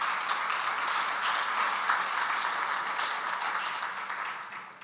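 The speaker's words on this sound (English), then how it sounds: "So big round of applause for our brown sponsors." A conference audience applauds steadily, dense clapping holding for a few seconds before tapering off near the end.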